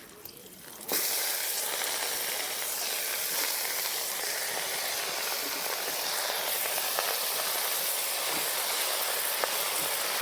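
Radish greens dropped into hot oil with broken green chillies in a wok, a sudden loud steady sizzle and hiss that starts after a quiet second and holds strongly for the rest.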